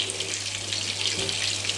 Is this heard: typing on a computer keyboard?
no